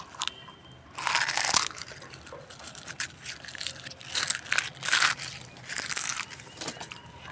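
Eggshells are crushed by hand for sprinkling around a lemon plant, giving close, crisp crunching and crackling in uneven bursts with short pauses between them, with no speech.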